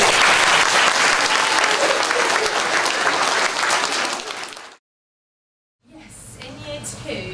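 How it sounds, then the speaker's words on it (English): A school assembly audience claps for year one, strong sustained applause that tapers off, cuts to silence, then gives way to quieter room sounds and a voice. "we have a clap for year one, please."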